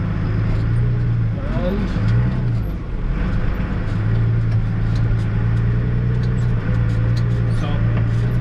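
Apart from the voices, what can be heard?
tractor hauling a trailer load of crimped grain back to the yard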